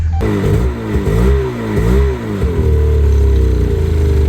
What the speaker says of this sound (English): Nice tractor you got.